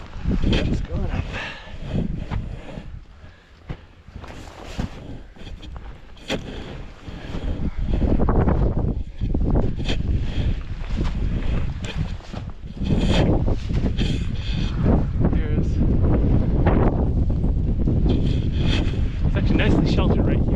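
Strong wind roars across the microphone on top of Flat Top Peak in Anchorage, Alaska, in loud, buffeting gusts that rise and fall through the whole stretch, with brief quieter lulls.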